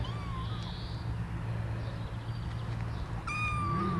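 Small, high-pitched mews from baby kittens eating cat food for the first time, one near the start and a sharper cluster at the end, over a soft steady background hum.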